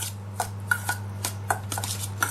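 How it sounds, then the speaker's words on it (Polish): Tartar sauce ingredients with chopped dried parsley being roughly stirred in a bowl, giving a series of light utensil taps and scrapes against the dish over a steady low background hum, with no talking. "Całość tak z grubsza mieszam."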